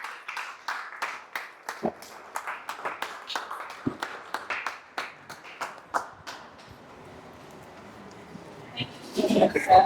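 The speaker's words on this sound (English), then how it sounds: "The round of applause for all." A modest round of applause from a seminar audience after a talk on turning ideas into opportunities; sharp, separate hand claps in an irregular patter that thins out, with a brief murmur of noise at the very end.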